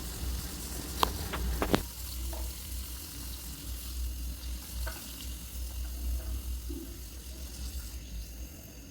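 Snacks being fried in a pan for a Janmashtami offering give a quiet, steady sizzle with a few sharp clicks near the start, and no one speaks.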